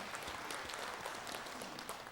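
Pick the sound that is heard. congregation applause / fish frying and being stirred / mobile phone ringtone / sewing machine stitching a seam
congregation applause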